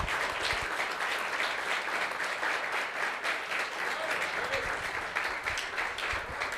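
A church congregation applauds steadily and loudly throughout, a dense continuous wash of many hands clapping together during a sermon on Psalm 137.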